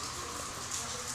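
Steady rain hissing and pattering in a continuous even wash in Minecraft Pocket Edition, with no voices.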